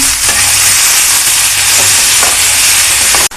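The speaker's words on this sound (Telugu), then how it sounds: "ఇప్పుడు మొత్తం అంతా కలుపుకోవాలి." Indian beans curry frying in a pan with garam masala, stirred with a spoon; a loud, steady sizzle fills the clip, broken by a few scraping stirs before it cuts off abruptly at the end.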